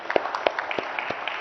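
Applause from an audience at an IT industry innovation summit, scattered individual claps standing out as distinct sharp hits over a softer background of clapping.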